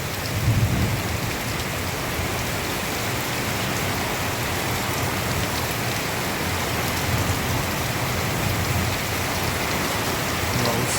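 Heavy rain pours down during an evening storm in a village in Kyiv region, a loud, dense, continuous roar with low thunder rumbling underneath and no voices.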